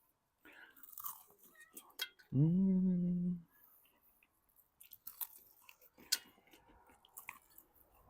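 Crispy-crusted fried pork neck chewed close up, with irregular crunching bites and a short hummed voice partway through.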